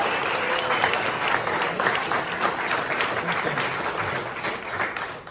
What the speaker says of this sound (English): So can we get another huge round of applause for the mentors?